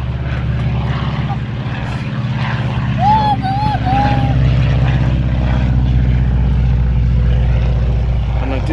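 A propeller airplane drones steadily overhead, a continuous loud low engine hum throughout, with a few brief bird chirps in the middle and no talk.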